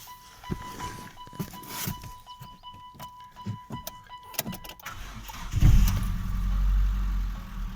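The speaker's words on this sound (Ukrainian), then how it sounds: "Двигун працює нормально, двигун працює тихо" A cold car engine idling after starting, running quietly and smoothly with a steady low hum and some nearby handling knocks, then a louder low rumble near the end, no speech.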